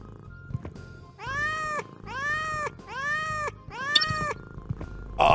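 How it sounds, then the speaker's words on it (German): A cat in the video game Thief Simulator 2 gives four clear, drawn-out meows in a row, evenly spaced and fairly close, with quiet gaps between them. "die Katze erstmal streicheln"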